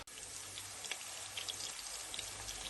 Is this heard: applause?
no